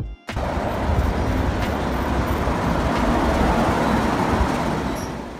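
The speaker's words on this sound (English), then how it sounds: "Monorail. A type of railway system with a single rail track" A monorail train runs along a single elevated rail, giving a steady rumbling roar that starts abruptly and holds level before easing slightly at the end, with no voices.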